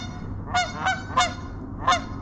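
Canada geese honk four times in quick succession on the Columbia River, each call loud, nasal and close, with no voices.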